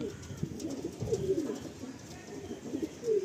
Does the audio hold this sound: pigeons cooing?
yes